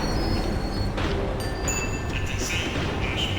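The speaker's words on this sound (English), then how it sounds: "The tram was slowing down, and I'd only just gotten on board." A tram in Max Payne 3 slows with a dense, loud rumble of wheels and machinery, faint squeals and clanks rising above the steady roar, and a voice may sit underneath.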